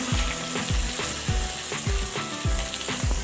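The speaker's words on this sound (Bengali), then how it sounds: "এখন দিয়ে দেবো একটা বড় সাইজের পেঁয়াজ, কুঁচো কুঁচো করে নিয়েছি পেঁয়াজটা আমি এখন দিয়ে দিচ্ছি" Chopped onion hisses and sizzles steadily in hot oil in a pan, with a regular scraping stir every half second or so, loud and close with no talking.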